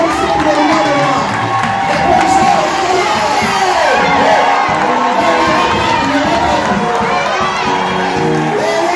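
An audience at a prophecy gathering cheers and shouts loudly, with many high voices whooping over a continuous crowd roar and speech mixed in.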